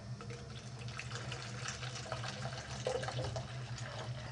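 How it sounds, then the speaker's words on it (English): Regular tap water runs from a faucet into a brine shrimp hatching container, making a steady close splashing, gurgling pour with no voices. "we'll want to add our water. This is just regular tap water."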